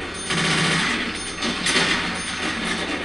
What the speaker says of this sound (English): I've got a deployable MG42